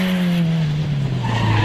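Historic rally car at the TAC Rally racing through an intersection, a loud close engine note dropping in pitch with tire squeal as it passes.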